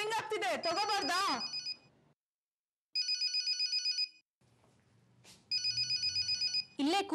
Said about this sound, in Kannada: ಇಲ್ಲೇ ಕೂತಿದ್ದೀಯಾ, ಫೋನ್ ಹೊಡ್ಕೋತಾ ಇದೆ,